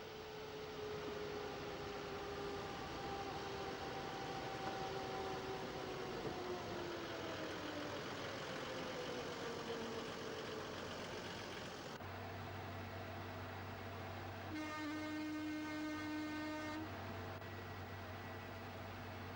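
A re-gauged diesel locomotive runs on the narrow-gauge Furka line, a steady droning engine hum with shifting whine tones and a deeper rumble change near the end, no voices.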